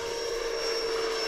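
An FMS 80mm F-86 Sabre RC jet flies past, a steady high electric ducted-fan whine with a sharp tonal pitch, constant and fairly loud throughout the short moment.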